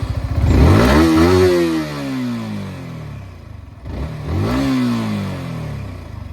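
Yamaha R15 V4 (R15M) motorcycle, 2024 model, revved twice in close succession: each rev climbs sharply then falls back to a lumpy idle, loud and close with no talk.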